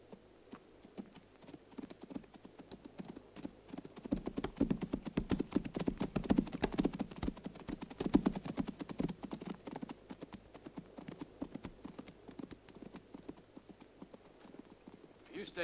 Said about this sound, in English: The horses ran off toward the hills.